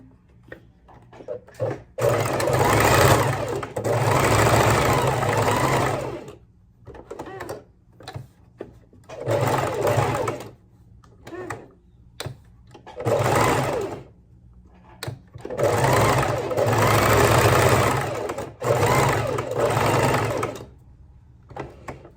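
Sewing machine stitching a small fabric arm, running in several sustained bursts of rapid needle clatter separated by short pauses, close and clear with no talking.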